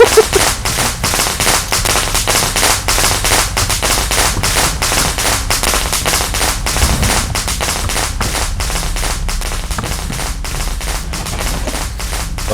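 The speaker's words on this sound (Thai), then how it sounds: "ประทัดได้ละ" Firecrackers thrown in the horror game Shadow Corridor 2 go off as a loud, dense string of rapid cracking pops that continues without pause throughout, with no speech.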